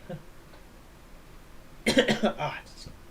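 A person coughs in a short burst of several harsh, close hacks after choking on water, following a quiet stretch in an otherwise calm talk-show setting.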